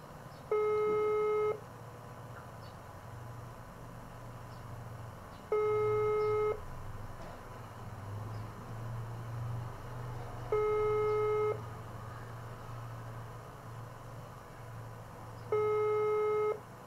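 A telephone busy signal repeats four times on a call to someone in North Kalimantan that doesn't connect, each tone burst about a second long and spaced at an even interval over a faint low hum.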